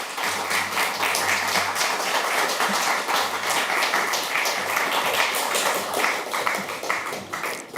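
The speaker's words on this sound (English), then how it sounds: "with a warm round of applause" An audience gives a warm, sustained round of applause to welcome a speaker to a talk on investigative journalism, dense steady clapping filling the room throughout.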